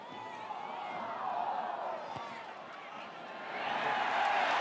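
A stadium crowd at a Top 14 rugby match between Castres Olympique and Stade Francais Paris, roaring and swelling into a cheer for a conversion kick, with commentary talking over the broad, distant crowd noise.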